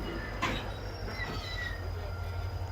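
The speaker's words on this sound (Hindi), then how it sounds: "एग्जैक्ट 1 बजे ट्रेन जो है वो निकल रही है कराची कैंट रेलवे स्टेशन से" Sukkur Express train pulls out of Karachi Cantt railway station, a steady low rumble of rolling wheels with faint squealing and a soft knock, heard from on board with no talk.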